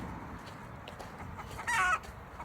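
A hen clucks in a short, loud burst of squawking near the end, over a steady farmyard background.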